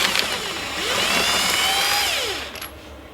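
A power tool whirs and rises in pitch, spinning on a wheel nut of an Escort Cosworth rally car replica, with a short mechanical clatter near the end.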